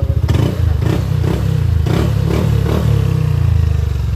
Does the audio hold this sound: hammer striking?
no